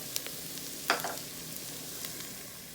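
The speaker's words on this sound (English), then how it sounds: "We're heating up the spices, and that's what brings out the flavor." Turmeric, paprika and spices fry with onions in a hot pan, a soft steady sizzle with a couple of brief stirring scrapes, close but quiet.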